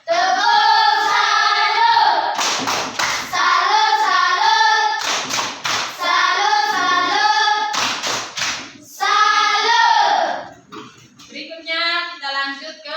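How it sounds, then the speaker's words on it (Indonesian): A group of teachers in a training session performs a rhythmic clap salute, with bursts of sharp unison claps alternating with loud chanted, sung voices. "tepuk salut dulu untuk kelompok 3"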